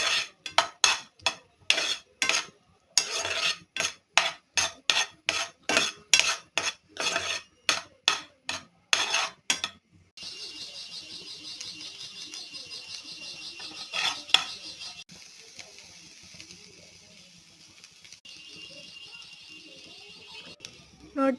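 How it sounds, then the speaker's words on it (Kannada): Sweet corn with butter, salt, chilli, pepper and chat masala is stirred in a pan, a spoon clinking and scraping rhythmically against the metal for about ten seconds, then fading into softer scraping and faint background voices. "ಫಸ್ಟು ಪ್ಯಾನಿಗೆ ಜೋಳ ಹಾಕಿ ಬಟರ್ ಹಾಕಬೇಕು. ಬಟರ್ ಹಾಕಿಬಿಟ್ಟು ಉಪ್ಪು, ಖಾರ, ಪೆಪ್ಪರ್ ಮತ್ತು ಚಾಟ್ ಮಸಾಲಾನ ಹಾಕಿ ಚೆನ್ನಾಗಿ ಮಿಕ್ಸ್ ಮಾಡ್ಕೊಳ್ಳಿ"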